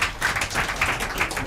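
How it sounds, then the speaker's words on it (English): An audience claps for a woman at a live broadcast programme, a steady patter of many hands at moderate level throughout, with no talking over it. "Make una clap for her."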